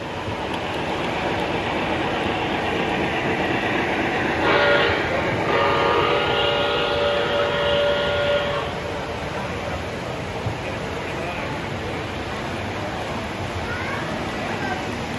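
O-gauge model trains run on a layout at a busy hobby gathering, with a brief whistle-like tone sounding over a steady background of crowd chatter and clattering track noise, then continuing as softer ambient hum.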